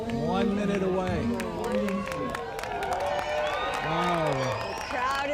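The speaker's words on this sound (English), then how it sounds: "The crowd is getting excited." Excited crowd gathered for the 2017 total solar eclipse cheers and whoops moments before totality, a dense, continuous wash of many voices with rising shouts and scattered claps close around.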